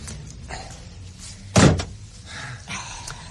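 An ambassador's car door shuts with one solid thump about midway through, set among quiet background rustle and soft movement.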